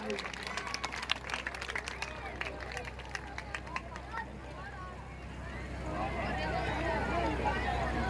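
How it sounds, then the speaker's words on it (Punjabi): An audience clapping at a Punjabi village jagran, a steady wash of applause that swells toward the end, heard under a voice. "ਇੱਕ ਵਾਰ ਜ਼ੋਰਦਾਰ ਤਾੜੀਆਂ ਲਗਾ ਦਿਓ ਜੀ"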